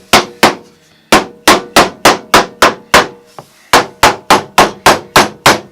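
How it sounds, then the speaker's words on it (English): A glued wooden piece on a table saw taper jig is tapped down to seat it: about fifteen sharp, close, evenly spaced knocks in two runs separated by a short pause, with nothing else heard. "I'll tap it down a little bit just to make sure it's well seated"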